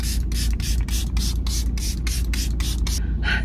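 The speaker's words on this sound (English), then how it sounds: "I have this antimicrobial spray right here and I like to just spray it after workouts." A hand-pumped bottle of antimicrobial spray fires about a dozen rapid, evenly spaced hissing bursts up close after a workout, loud over a constant low room rumble, with no talking.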